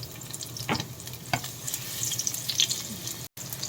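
Onion sautéing in a pan with browned garlic and ginger gives a faint, low crackle, with a couple of sharp clinks and a brief splash-like rustle; the sound is quiet and close, and no one talks.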